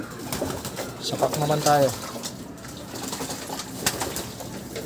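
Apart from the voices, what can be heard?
pigeons cooing in loft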